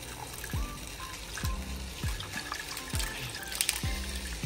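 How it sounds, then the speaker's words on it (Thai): Water trickles and pours in an uneven stream into a sauce for salted egg yolk spring rolls, with faint clinks of the container over the steady flow. "also I'm gonna add water of course"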